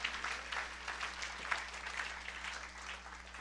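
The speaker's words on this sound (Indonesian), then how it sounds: "Berikan tepuk tangan yang meriah buat Tuhan." A church congregation gives lively, rapid applause during a sermon, many hands clapping in a dense, slightly uneven wash, moderately quiet over a faint steady electrical hum, with no one speaking.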